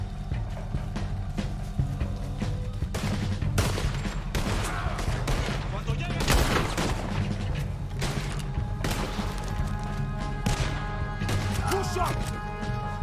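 Loud, sustained volleys of gunshots ring out in a Red Dead Redemption 2 chase, sharp cracks repeating irregularly amid crashing impacts, with shouting voices over the fire.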